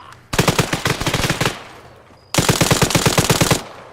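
Automatic gunfire in the video game Arma 3, two sustained rapid bursts of loud close shots separated by a short quiet gap, with no speech over them.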